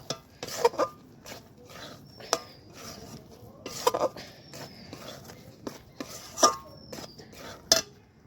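Rice flour dough for rice naru sweets is stirred in a pan with a utensil, giving scattered scraping knocks and clinks at irregular intervals over a quiet kitchen background.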